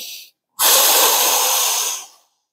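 A single deep, forceful breath is drawn and held through the nose and mouth while holding a revolved chair yoga pose, a close, loud airy rush that lasts over a second and then cuts off.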